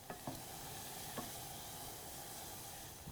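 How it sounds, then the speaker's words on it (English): Miso soup with tofu and pak choi being gently stirred in a pot, a steady simmering hiss with a few faint soft scrapes near the start, close and quiet, no voices. "Give it a little stir."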